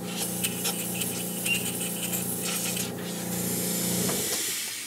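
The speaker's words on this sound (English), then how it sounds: "I have a little airbrush compressor" A small, low-pressure airbrush compressor blows air in a steady, close hiss that runs for several seconds before tapering off at the end.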